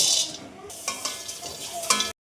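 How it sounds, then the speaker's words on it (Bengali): Nuts frying in a pan give off a soft sizzle, with a few distinct scrapes of a stirring utensil at close range and no voices. "দেখো এই বাদামগুলো আমি একটু ভেজে নিব।"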